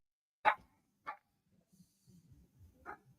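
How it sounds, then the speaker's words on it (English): A dog barks three times upstairs, sharp and somewhat muffled as if from another room, with short quiet gaps between the barks. "there's my dog barking"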